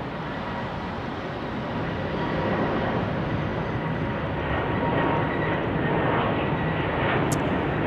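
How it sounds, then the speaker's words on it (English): An Airbus A220-300 airliner departs on runway 34 right, a broad, steady jet engine roar that swells slightly as it rolls, loud and continuous with no talk. "A220-300 now departing here on runway 34 right."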